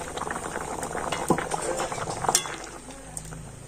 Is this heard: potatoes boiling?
yes